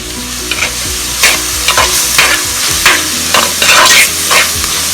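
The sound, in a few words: onions frying and being stirred in a pan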